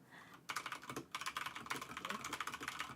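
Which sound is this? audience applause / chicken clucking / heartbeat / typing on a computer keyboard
typing on a computer keyboard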